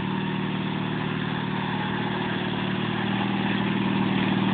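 Bill's lawn mower runs at a steady, droning idle, a constant close engine rumble that holds level the whole time with no pauses.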